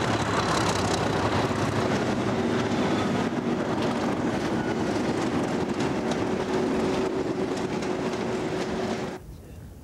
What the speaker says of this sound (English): the Class 37 locomotive hauls a heavy load of limestone